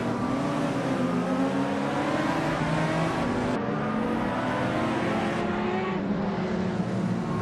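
Race cars in a racing game battle through corners, with several engines droning and revving close together in a continuous loud roar that shifts pitch as they accelerate.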